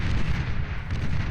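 Tail cannons on Hound units blast medium tanks in Beyond All Reason, giving a loud, dense barrage of low booms that pound continuously through the short stretch.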